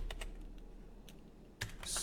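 Keystrokes on a computer keyboard during a software setup walkthrough, a few scattered taps followed by a short burst of quicker typing, close and fairly quiet.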